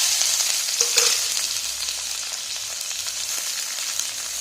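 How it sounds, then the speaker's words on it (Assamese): Two onions sizzle steadily in hot oil seasoned with bay leaf, cinnamon and cardamom for a duck curry, with a small stirring clink early on and no talk. "এতিয়া এইখিনি ৰঙচুৱাকৈ ভাজি ল'ম"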